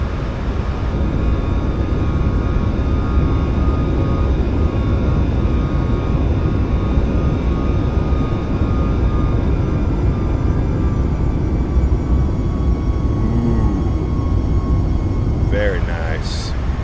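Boeing 737 MAX 8 jet engines at climb power in Microsoft Flight Simulator 2024, a loud, steady roar with a whining tone, continuous throughout, with brief voices near the end.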